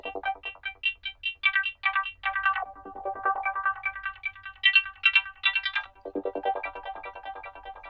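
Synthesized forest-style pluck tones with frequency separation, a run of short bright plucked notes in quick rhythmic succession, upper and lower layers alternating, clear and alone.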